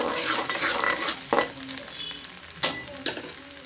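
Chopped garlic frying in a pan for pasta, a loud close hiss and crackle with several distinct clinks and scrapes of a spoon against the pan; no speech.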